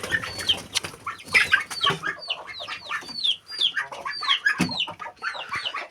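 Chickens and their chicks in a farmyard clucking and cheeping, with rapid overlapping high chirps and short clucks, close and fairly busy, with no talking.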